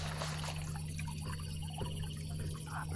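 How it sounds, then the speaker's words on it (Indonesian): Water poured or splashing from a well at a campsite at night, a steady close trickle over a constant low electrical-like hum, with no voices. "Kayak siraman air tuh teman."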